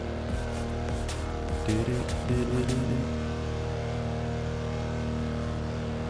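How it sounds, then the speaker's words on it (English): A loud racing-game car engine drones steadily with strong harmonic tones, a few brief shifts in pitch midway, continuous and up close with no talk. "Damn, this car's loud, isn't it?"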